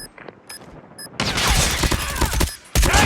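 Automated sentry gun in Call of Duty Mobile's Demolition mode opening fire, a loud sustained burst of rapid gunfire that cuts out briefly and then resumes, preceded by quieter game sounds.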